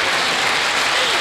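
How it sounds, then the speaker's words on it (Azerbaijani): Dense, continuous clapping from a concert audience welcoming a folk musician on stage, loud and close with no break. "Əl çalan əlləriniz var olsun."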